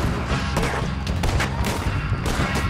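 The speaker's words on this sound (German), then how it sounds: "Kommen die Schüsse von da?" Gunfire in the video game Red Dead Redemption 2, a dense, continuous barrage of overlapping shots that stays loud and busy throughout with no clear gaps.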